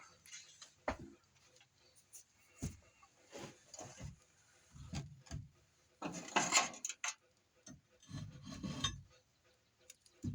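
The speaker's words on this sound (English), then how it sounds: "while them two are burning, I'll scrape some of this out." Intermittent scraping and rasping as pine resin is dug out, short irregular strokes at close range with quiet pauses between, while a fire burns nearby.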